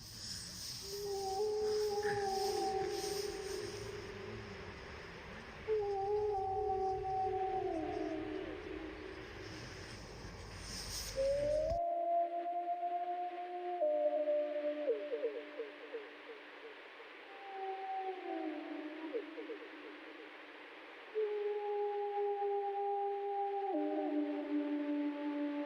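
A wolf pack in Yellowstone giving a chorus howl, long sliding wails overlapping with higher yips from puppies joining in, rising and falling across two recordings, clear and fairly close with no talking.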